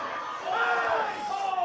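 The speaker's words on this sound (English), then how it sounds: "UCD crowd getting loud" Crowd at a UCD American football game growing loud, a swelling roar of many voices and shouts from the stands, heard at a distance.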